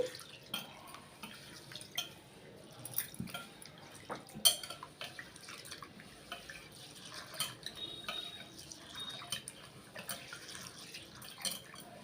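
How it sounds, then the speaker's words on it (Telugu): Pearl millet is rinsed in plenty of water in a kitchen pot, with soft sloshing, drips and light clinks of the vessel in a loose, uneven rhythm at close range. "ఎక్కువ వాటర్ వేసుకొని శుభ్రంగా కడుక్కోవాలండి"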